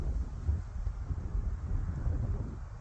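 Steady low rumble of wind buffeting the microphone outdoors on a disc golf course, continuous and fairly loud, with no voices.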